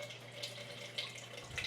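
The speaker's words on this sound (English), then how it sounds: "I just filled up my water pitcher and it's going kind of slow." Water from a kitchen tap streams into a water pitcher in a steady, soft trickle, with a few faint splashy bursts close by and no voices.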